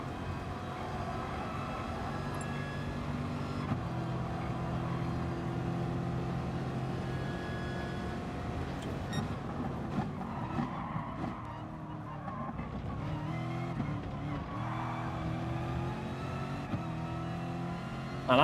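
A Corvette's engine drones and revs in Gran Turismo Sport, a sustained racing-game engine note that rises and falls through gear changes with occasional tyre noise, heard steadily throughout.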